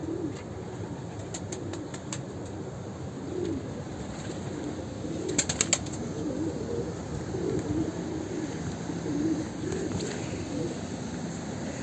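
Kirik baska pigeons in a coop give soft, low cooing calls throughout, with a brief burst of wing flapping midway over a steady background murmur.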